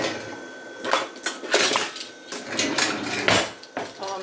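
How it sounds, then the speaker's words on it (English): Pizza is cut on a nonstick pan, a series of sharp scraping and clinking strokes of the cutter against the metal, close and irregular, with brief pauses between cuts. "Please don't come for me for cutting on this nonstick pan."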